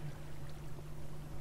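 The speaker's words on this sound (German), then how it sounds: "Ach, jetzt bricht das Wasser hier wieder rein." Water in the video game Minecraft flows in with a faint, steady rushing wash, low and continuous without any break.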